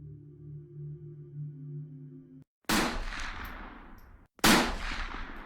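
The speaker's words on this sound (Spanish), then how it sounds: "Dispararon sus armas" Soldiers' gunfire crashes in as two sharp, loud blasts with long decaying tails, following a stretch of low droning tones, then a brief silence between the shots.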